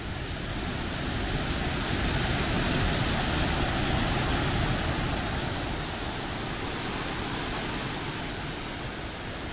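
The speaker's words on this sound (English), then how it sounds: "The Falls de Novio, or Falls of the Bride, is the largest falls." El Chiflon's Falls of the Bride in Chiapas, Mexico, roars as a dense, constant wash of falling water, steady and full for the whole stretch with no voices.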